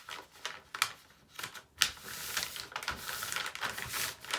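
Paper being folded and creased for a paper bag junk journal, with soft crinkles, rustles and sharper crisp creasing sounds in uneven bursts, quiet and close.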